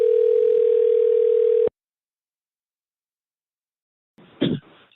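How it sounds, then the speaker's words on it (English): A steady telephone dial tone hums while a call is being placed, then cuts off into silence before a brief click and rustle on the line. "Let's see if he answers the phone."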